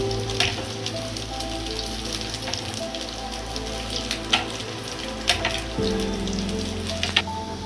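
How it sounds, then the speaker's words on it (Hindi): Soya seekh kebabs fry in hot oil with a loud, close, steady sizzle, dotted with sharp crackles and pops as they are turned, and no talking. "अब देखिए जो जो फ्राई होते जाए उनको धीरे धीरे आहिस्ता आहिस्ता से पलटते रहें।"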